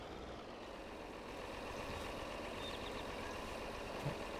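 A tractor engine idles in Farming Simulator 22, a steady low diesel rumble that holds even throughout, with a faint clunk near the end and no voices.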